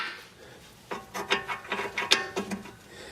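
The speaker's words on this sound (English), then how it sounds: "You can take this bolt off right here." Wrench working a suspension bolt loose on a BMW E46 3 Series, a run of short ratcheting clicks and metallic scrapes in quick succession, close by with no talking.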